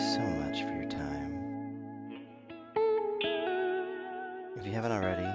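Guitar through a Vongon Ultrasheer stereo pitch vibrato and reverb pedal plays shimmering, wavering chords and single notes with a long reverb tail, ending in a denser swell of modulated strumming.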